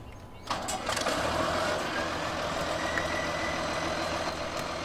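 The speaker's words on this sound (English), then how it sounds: "I'll just start the engine up." A tractor engine in Farming Simulator 2015 cranks and catches within the first half second, then settles into a loud, steady diesel idle that continues throughout, close and alone.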